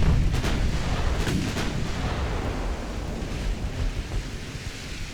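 Warship gun salvos in the naval strategy game Ultimate Admiral Dreadnoughts, with a few sharp booming shots early on over a steady low rumble that fades slightly toward the end.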